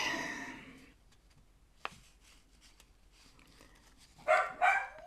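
A dog lets out a couple of sharp, close barks near the end, with a brief bark at the start and quiet between.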